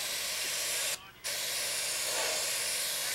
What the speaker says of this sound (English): Now normally I wouldn't spray in a house like this